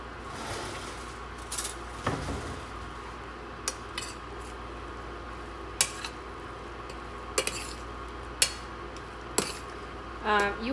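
Chana dal and coconut being stirred in a pan, a spoon scraping and knocking against the metal in scattered clinks over a steady low background hiss.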